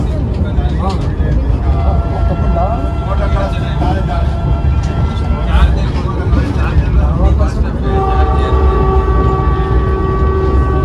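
Steady, loud rolling rumble of the 20607 Vande Bharat Express semi-high-speed train on the Mysore–Vellore route, running at about 110 km/h; the continuous drone fills the whole stretch while people talk over it.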